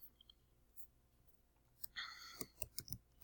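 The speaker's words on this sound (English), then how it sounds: "So we can start off by typing out our first question." Quiet computer keyboard clicks tap out in a quick irregular burst near the end, after a near-silent stretch.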